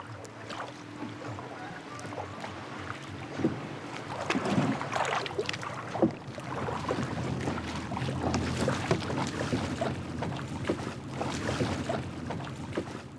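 A canoe travels out on open water off Borneo toward a coral reef, with a continuous rush of water and wind and swelling splashy surges, some fairly close.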